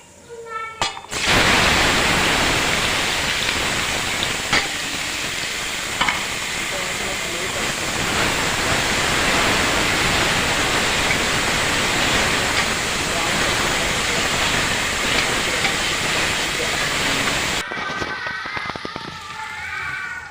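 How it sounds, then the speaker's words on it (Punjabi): Onions fry in hot mustard oil with cumin, giving a loud, steady sizzling hiss that runs continuously for most of the stretch before cutting off near the end. "ਹਾਂਜੀ ਪਿਆਜ਼ ਸਾਡੇ ਭੁੰਨ ਲਏ"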